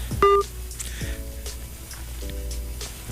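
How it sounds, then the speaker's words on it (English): Telephone dialing tones from a phone call into a live stream: a short bright keypad tone, then quieter repeated ringing tones spaced about a second apart over a low background hum. "Let me see if I can get Heavy on the line here."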